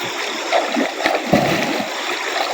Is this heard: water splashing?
yes